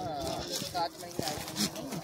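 A goat bleats at a goat market, short wavering cries amid crowd noise, with someone speaking over the bleats.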